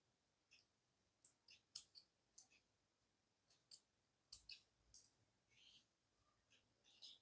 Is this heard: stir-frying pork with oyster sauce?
no